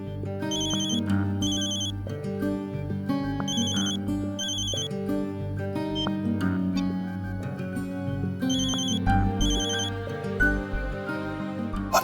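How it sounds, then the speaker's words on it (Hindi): A phone rings repeatedly while a call is placed, bright electronic ringtone bursts in a regular pattern, loud and clear over a low musical background, with no speech. "एक काम करता हूँ, फोन करता हूँ, पूछता हूँ"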